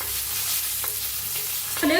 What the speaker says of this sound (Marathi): असं तेल घालायचं म्हणजे मस्त भाजतात आपले जिरा। आता याला हलवून घेऊया